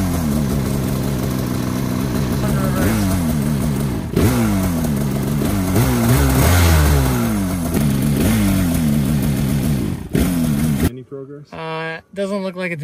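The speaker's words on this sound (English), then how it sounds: "put the sled in reverse, rev it up" A 2025 Ski-Doo Freeride Turbo 146 snowmobile revs hard in reverse, its engine climbing and falling in repeated loud surges before cutting off; a voice speaks briefly afterward.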